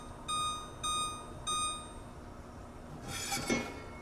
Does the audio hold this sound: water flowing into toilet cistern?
no